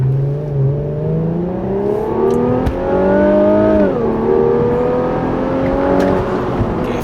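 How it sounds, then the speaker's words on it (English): An Infiniti Q50S with a twin-turbo V6 launches hard from a standstill to 60 mph, the engine note climbing steadily through the revs, dipping at a gear change near the four-second mark, then rising again, loud and close. "Zero to 60 in the Infiniti Q50S."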